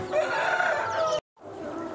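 Roosters on a farm cluck and call loudly up close, a dense burst of fowl vocalizing that breaks off briefly and then returns more softly.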